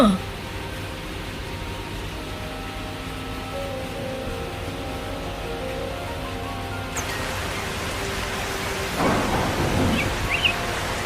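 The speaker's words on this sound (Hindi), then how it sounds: "देखा ना, बारिश शुरू हो गई ना।" Steady rain hiss with a low rumble of thunder building late, while people talk faintly in the background.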